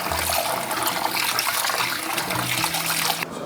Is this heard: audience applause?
no